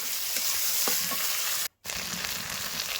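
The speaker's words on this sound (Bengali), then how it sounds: "এবার দেখো বেটে রাখা আদা রসুন বাটা দিয়ে দেবো" Ginger-garlic paste sizzles in a pan with fried onion and tomato, a steady close frying hiss cut by a brief silent gap midway, with no talk.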